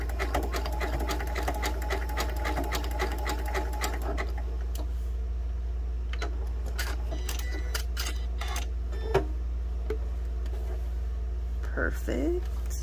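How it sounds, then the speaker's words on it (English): A sewing machine runs a rapid, steady satin stitch through quilted fabric for about four seconds, then stops, leaving scattered mechanical clicks and light handling noises. "I'm just going to let it satin stitch off."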